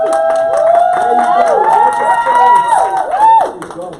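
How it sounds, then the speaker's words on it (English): An audience cheers loudly, with sustained whooping voices rising and falling over scattered clapping, close and energetic. "Give him a round of applause"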